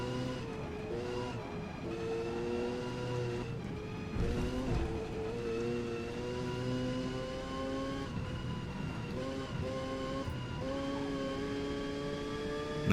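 A tuned Mazda RX7 race car engine in the Forza racing game howls at high revs, rising and falling through gear shifts with a sharp dip near the middle, loud and continuous while overtaking, with no talk.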